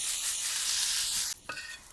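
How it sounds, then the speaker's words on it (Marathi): Onion sizzles loudly on a hot griddle over a wood-fired stove, a steady bright frying hiss that drops suddenly near the end. It gives way to a scraping stir and a softer sizzle. "तव्यावर कांदा पण टाकलेला आहे ती परतून घेऊया आपण लाल होईपर्यंत चांगला"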